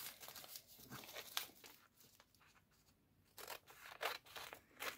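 Scissors snipping through old paper atlas pages for Christmas gift wrapping, quiet close crisp cuts mixed with light paper rustling and crinkling.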